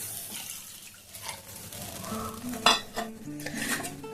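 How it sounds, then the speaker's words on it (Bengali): A bowl of warm water poured into a pan of sautéed egg curry, with the pan and utensils clattering, a sharp metallic knock midway and watery splashing near the end. "দিয়ে দিলাম উষ্ণ গরম জল এক বাটি"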